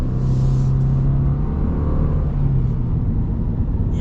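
A 2025 Subaru Impreza Sport with a 152-horsepower boxer four-cylinder and all-wheel drive accelerates, its engine drone and road rumble steady and fairly loud from inside the cabin, with no talking.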